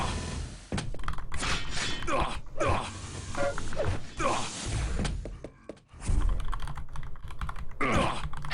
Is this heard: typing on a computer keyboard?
yes